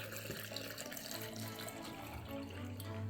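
Brewed hibiscus tea pours into a pitcher filled with ice, a steady close liquid splash and trickle running throughout with no talk.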